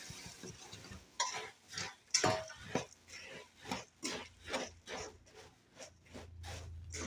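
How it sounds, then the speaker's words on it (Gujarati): Puffed rice being stirred quickly into hot brown jaggery syrup for crispy ladoos, giving a steady run of rhythmic crunchy scraping and rustling strokes close by, with no talking. "તો હવે મમરાને આપણે એડ કરી દઈશું એડ કરી દઈશું અને સારી રીતે મિક્સ કરી દઈશું"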